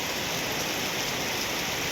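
Rain pours down steadily during a strong storm, a dense, continuous hiss that fills the whole span with no pauses and no voices.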